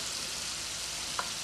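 Pears softening in a butter and olive oil mix in a hot pan give a steady, faint, even sizzle throughout, with one small tick near the end.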